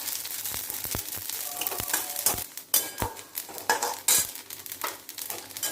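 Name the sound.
vermicelli being stirred and fried in ghee in a pan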